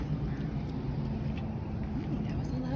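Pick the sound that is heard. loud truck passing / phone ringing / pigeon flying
loud truck passing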